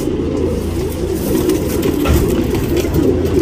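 A racing pigeon bred for endurance tournaments coos softly and repeatedly at close range, its low throaty calls layered over steady background ambience, with no talking.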